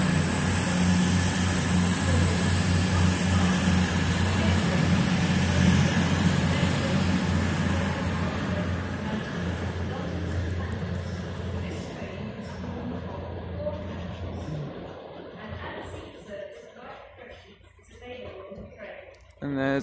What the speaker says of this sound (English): There's the London train coming.